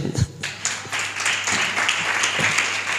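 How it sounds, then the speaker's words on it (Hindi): Applause from an audience gathered for a Hindi-language talk, a burst of clapping that carries on steadily for a few seconds in a reverberant room, with a few thumps near the start. "तो 14 वालों के लिए जोरदार ताली बजाए।"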